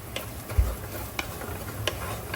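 Kashmiri chilli and turmeric sautéing in oil for a salmon head curry, a low steady sizzle with a few sharp ticking stirs and one soft thump, no voices.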